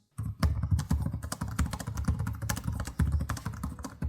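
Rapid typing on the keyboard of an Asus TUF A16 2025 gaming laptop, with close, thumpy key presses in an uneven, continuous rhythm and occasional heavier strikes, with no talking.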